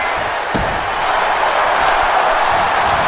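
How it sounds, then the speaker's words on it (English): Video game wrestling arena crowd in WWE 2K, a loud, dense roar of fans chanting "Fight Forever" that fills the whole stretch, with a sharp impact thud near the start. "The crowd chanting "Fight Forever.""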